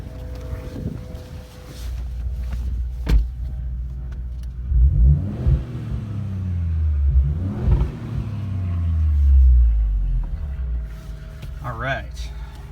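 A Ford Fusion with a sport exhaust, heard from inside the cabin while driving, gives a low droning rumble that swells twice as the engine revs through gears, with road noise beneath and a voice talking at times.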